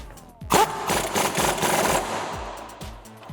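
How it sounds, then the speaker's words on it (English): A 1/2 inch impact gun fitted with an 18mm socket rattles loudly in one sustained burst as it tightens a lower strut bolt on a Dodge Challenger, close up and with no talk. "take my 18mm on my 1/2" impact gun, tighten our lower strut bolt up"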